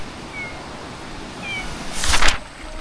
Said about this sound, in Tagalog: Pusa oh.